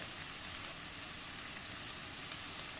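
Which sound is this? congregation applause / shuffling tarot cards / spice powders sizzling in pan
spice powders sizzling in pan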